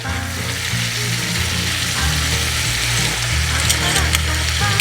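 Stew meat sizzles loudly in melted butter in a pan, a steady dense frying hiss with low bubbling underneath and a few sharper crackles toward the end, no voices.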